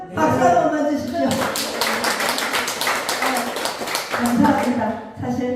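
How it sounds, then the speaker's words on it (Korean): Lecture audience at a Korean lyric-writing academy class breaks into brisk clapping between stretches of someone talking, the claps forming a dense, even patter in the middle. "박수 한 번만 주십시오."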